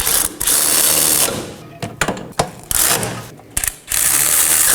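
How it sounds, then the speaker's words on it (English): Ratchet snugging down the 18mm wheel bearing and hub bolts on the passenger rear CV axle of a 2018-2024 Chevrolet Equinox 1.5L: rapid close clicking in several bursts, separated by short pauses and metallic taps. "Now that their hands threaded on, I'm going to go ahead and snug them down."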